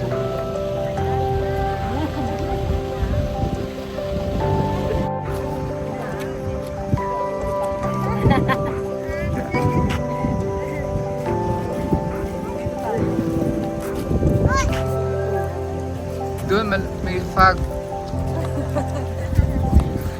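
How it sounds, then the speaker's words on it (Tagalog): Heavy rain patters steadily on surfaces outdoors throughout, with people talking and laughing nearby over the downpour. "Pero naulan na."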